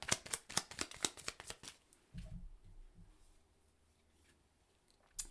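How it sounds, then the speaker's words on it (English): Tarot cards being shuffled: a quick run of crisp riffling flicks and snaps, close and fairly soft, followed by a brief soft thud as a card is drawn and laid down, then near silence. "let's pull a clarifying card for the Four of Wheels and see what turns up"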